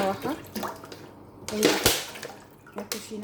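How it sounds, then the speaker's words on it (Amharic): Water pours and splashes into a cooking pot on a gas stove in a home kitchen, using bottled Highland drinking water for boiling, a couple of louder gushes over a short stretch, with a voice talking nearby. "ውሃ ጨምራለሁ።"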